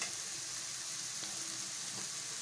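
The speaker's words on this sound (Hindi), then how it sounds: "दो से 3 मिनट और फ्राई करने हैं।" Tinda pieces fry in desi ghee in a pan, making a dense, even sizzle that stays constant and fairly quiet for a couple of seconds, with no talking.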